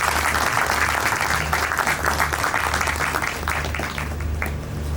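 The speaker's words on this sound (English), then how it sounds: "I really would like you guys to give Mrs. Chioma another round of applause" A community gathering gives a presenter another round of applause, steady crowd clapping over a low hum that carries on evenly throughout.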